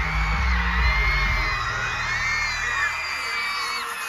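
Standing fans at a concert roar and scream as the group appears, a loud dense crowd cheer with piercing high shrieks and booming low rumble filling the whole stretch.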